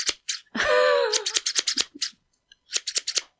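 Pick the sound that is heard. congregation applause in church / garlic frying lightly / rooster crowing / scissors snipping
scissors snipping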